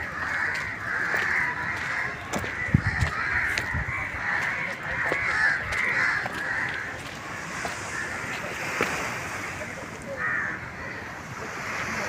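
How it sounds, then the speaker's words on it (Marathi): Crows caw repeatedly at the seaside at Chaitya Bhoomi memorial, their harsh calls carrying over a steady roar of ocean surf and wind. "समुद्र पक्षाच्या थवथवा उडत आहे"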